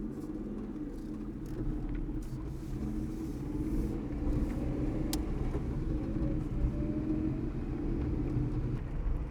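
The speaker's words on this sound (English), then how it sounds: "We're driving around here on the backside of Berg-en-Dal." Car driving along the roads behind Berg-en-Dal in Kruger National Park, a steady low engine and road rumble that stays even throughout, heard from inside the vehicle with no talking.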